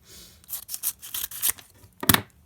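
Small scissors snip and tear open a foil card-pack sachet in a quick run of close, crisp cuts and rustles, finishing with a sharper rip.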